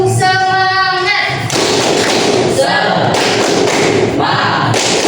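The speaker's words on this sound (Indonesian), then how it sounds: "Oke. Tepuk semangat." Ninth-grade class doing the rhythmic tepuk semangat spirit clap, a loud group pattern of claps and thumps in quick bursts mixed with chanting voices, opening with a sustained tone.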